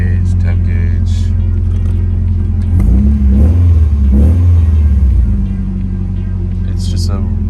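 A Nissan 240SX engine cranks and catches, then revs up in a couple of strong surges before settling back to a steady idle, loud and close, with a voice talking over it.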